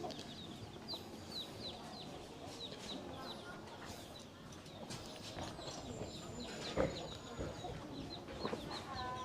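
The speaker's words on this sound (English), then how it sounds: "there's some little chickens." Little chickens cluck and chirp softly in the background at a family-friendly animal cafe in Phayao, Thailand, with faint ambient murmur and a few sharper bird calls near the end.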